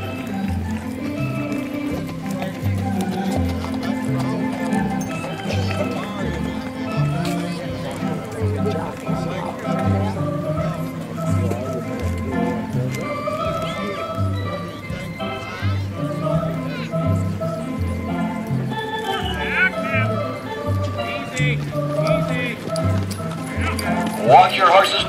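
Missouri Fox Trotter horses walk with steady, rhythmic hoof clops throughout, under an announcer's amplified voice and faint crowd chatter in an open show arena.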